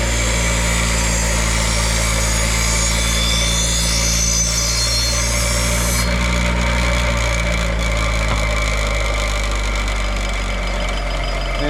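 A bench machine cleaning the beveled edge of a machete blade runs loud and steady, a constant motor hum with a high whine that cuts out partway through as it keeps droning on its own.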